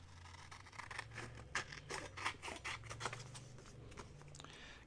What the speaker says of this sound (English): Okay, let's do some trimming.